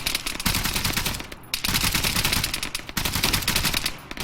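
Sustained machine gun fire in the video game Arma 3 on the Tanoa map, long dense rattling bursts with two brief pauses, loud and close, no talking over it.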